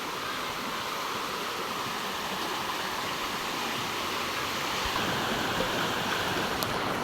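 A stream used for bathing flows in a steady, broad rush with no pauses, heard at a moderate distance, unbroken throughout and not very loud.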